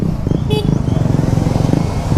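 Heavy big-bike motorcycles rumble past close by in Pangasinan, a continuous loud engine drone with steady throbbing and no pauses.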